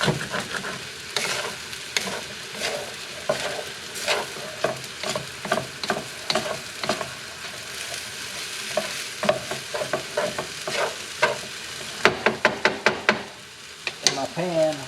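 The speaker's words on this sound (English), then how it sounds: "I'm just gonna break up all the clumps here," Fried rice with mushroom soy sauce sizzles in a pan while a utensil scrapes and stirs through it, breaking up clumps in a steady run of close, rhythmic knocks and scrapes over the frying.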